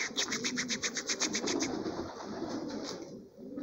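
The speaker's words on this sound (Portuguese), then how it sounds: "Aí tem pombo aqui no chão," Carrier pigeons on the ground and on a roof coo nearby in a quick, regular run of pulsing calls that fades after a few seconds, set against a steady outdoor background.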